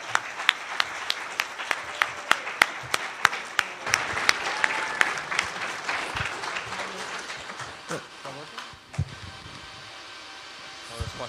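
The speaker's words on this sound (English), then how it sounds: "round of applause, I guess" A conference audience applauds after a technical talk, dense clapping with sharp individual claps for several seconds, then thinning and fading out toward the end.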